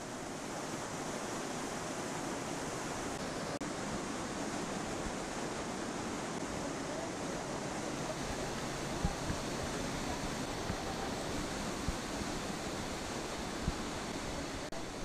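River rushing through the Breitachklamm rocky gorge in Bavaria, a steady dense roar of water that stays constant and fairly loud throughout with no talk.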